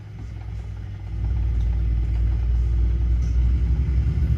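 A Peterbilt 389 truck engine in American Truck Simulator rumbles low and deep, swelling louder after a second and holding a steady, heavy drone.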